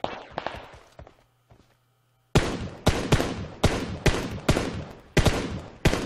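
Gunfire in the PUBG Mobile battle royale game: a few faint shots, a short silence, then a series of loud, evenly spaced single shots cracking out one after another, each with a decaying tail.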